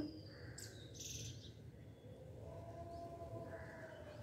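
Birds call outdoors around a spot where mynas and crows gather, with a few faint chirps and squawks over steady background noise, fairly distant and soft, without talk.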